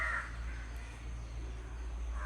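Crows caw around ripe jackfruit in a tree, one harsh caw at the start and another at the end, fairly faint over a constant low rumble.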